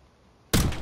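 A single sniper-style gunshot rings out in Call of Duty: Black Ops 6, a sudden loud crack after near-silence that decays quickly into a fading echo.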